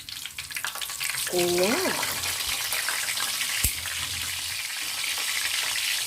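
Chicken frying in hot oil gives a loud, steady, close crackling sizzle throughout. A voice briefly exclaims over it early on.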